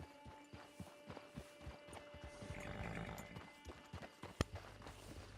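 Horse hooves clip-clop at a walk in the Western video game Red Dead Online, a run of close, evenly paced steps over ambient game sound, ending with a sharp knock.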